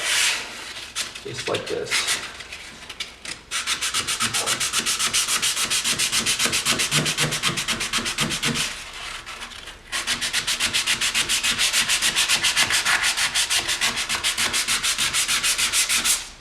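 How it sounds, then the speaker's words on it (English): Oak stair treads being sanded across the grain: a steady, close, loud abrasive rasping that runs almost continuously, with a brief pause near the start and another midway, and a short spoken remark early on. "I'm sanding across the grain right here, and then I'll finish up with the grain"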